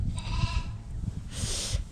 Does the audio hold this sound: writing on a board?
no